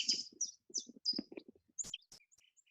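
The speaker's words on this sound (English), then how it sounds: "So you're going to hear some birds singing." Several birds chirp and warble in short bright bursts, looping nature ambience played through speakers and picked up by a microphone, fairly faint with small gaps between calls.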